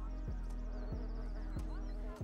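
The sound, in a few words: buzzing fly in film soundtrack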